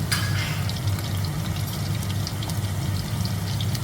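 Dry spices sizzling in hot oil for a tadka, giving a dense, continuous close-up crackle and hiss with a low rumbling undertone and no talking.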